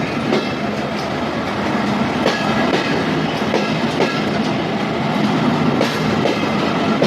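A short train pulls out of Daulatpur railway station in Khulna, bound for Benapole, rolling past a waiting train at the crossing with a steady rumble and rhythmic clacking wheels close by.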